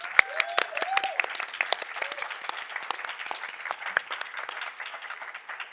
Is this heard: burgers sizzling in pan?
no